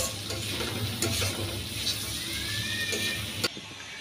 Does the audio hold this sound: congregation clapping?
no